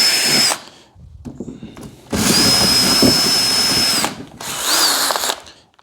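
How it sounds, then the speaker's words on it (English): Power drill whirring in bursts while working on a homemade painting canvas: a short run, a pause, a longer steady spin of about two seconds, then another brief burst, loud and close with no talk. "I turned the drill the wrong way because I'm an idiot."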